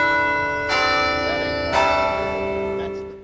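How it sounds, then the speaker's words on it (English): Campus bell tower bells ringing at the University of North Carolina for a memorial, loud sustained tolls with two clear strikes whose rich, lingering tones slowly fade. "The bells rung at 1:02 p.m., the minute the university learned of a shooting there Monday afternoon."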